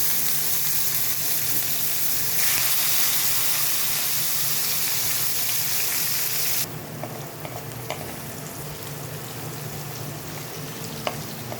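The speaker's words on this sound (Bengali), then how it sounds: "এবার এর মধ্যে দিয়ে দিচ্ছি একটু গোটা ছোট এলাচ, আর দিয়ে দিচ্ছি কুচিয়ে রাখা পেঁয়াজ।" Chopped onion and whole green cardamom hit hot oil with a loud, steady sizzle that drops to a quieter crackle partway through, with faint stirring scrapes.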